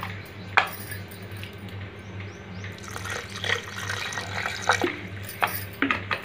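Cool water poured into a mixer jar for a dry fruit juice, a short watery pour with clinks and small knocks of kitchenware close by.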